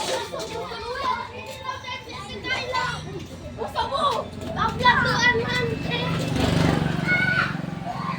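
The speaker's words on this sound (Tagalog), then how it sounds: "Ang ingay ng mga bata na to." Noisy children play and chatter nearby, their overlapping voices and shouts running steadily through the whole stretch at moderate loudness.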